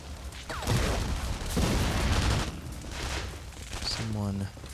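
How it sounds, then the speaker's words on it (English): Grenade blasts and gunfire in the video game The Saboteur, heavy booming bursts and rattling shots in rough waves, loud and close, with someone talking over them in places. "Grenades!"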